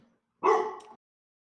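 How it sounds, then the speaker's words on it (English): A dog gives a single short, close bark that rings clearly against silence. "Woof! Yeah, that's my dog."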